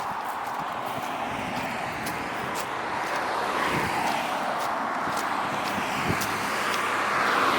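A Ford Capri passes along a road beside a park, rising as a steady broadband wash of tyre and engine noise over constant background traffic and wind.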